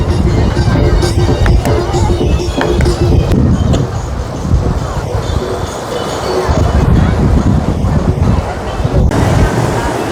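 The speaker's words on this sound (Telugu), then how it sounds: "వాటర్ చూడండి ఎంత ఫ్లోటింగ్ ఉందో, వాటర్ ఫుల్ ఫ్లోటింగ్" Water rushing heavily over the rocks at Chaparai waterfalls in Araku Valley, a loud, steady roar mixed with wind buffeting the microphone and a voice talking over it.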